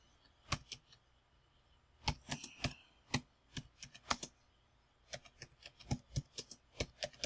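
Fingers type on a computer keyboard, a nearby run of crisp, irregular keystroke clicks in quick bursts separated by short pauses.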